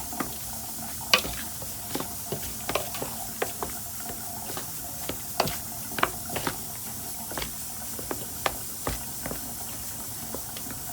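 Seasoned food, with garlic powder among the ingredients, is stirred and mixed in a bowl: loud, uneven scraping and clattering strokes over a hissy, sizzling background, with no voices.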